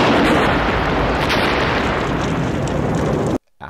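A loud, sustained explosion from the 1995 action movie Expect No Mercy roars with dense rumbling noise for over three seconds, then cuts off abruptly before a brief trailing burst.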